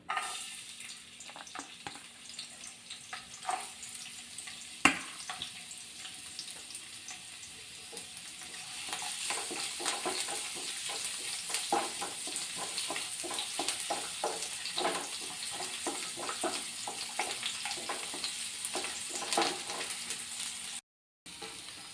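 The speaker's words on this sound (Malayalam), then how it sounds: "ഇനി അതിനടുത്തിട്ട് നമുക്ക് ആദ്യം ഈ ഇഞ്ചിയും വെളുത്തുള്ളിയും കൂടെ ഇട്ട് കൊടുക്കാം" Ginger and garlic fry in oil in a pan, a steady quiet sizzle with scattered crackles and occasional stirring scrapes, no talking.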